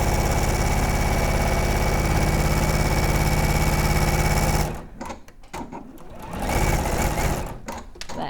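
A domestic sewing machine stitches fabric in a steady, loud, continuous whir for nearly five seconds, then stops abruptly, leaving quieter handling noises.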